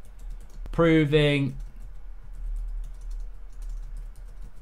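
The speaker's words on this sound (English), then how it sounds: "let me type" Computer keyboard typing, a quiet run of light, irregular keystroke clicks. It carries on after a brief spoken word near the start and sits under steady low background hum.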